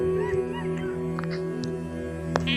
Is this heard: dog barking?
yes